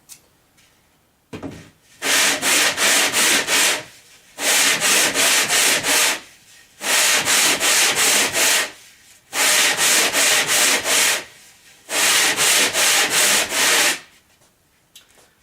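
Sandpaper rubbing back and forth over a wooden drum shell's freshly cut bearing edge in five bursts of rapid strokes, each lasting about two seconds, with short pauses between; close and loud, no talking.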